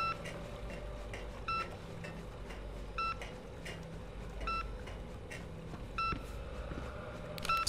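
A device in the game INFRA beeps repeatedly with short, evenly spaced electronic tones about every 1.5 seconds, over a quiet ambient hum.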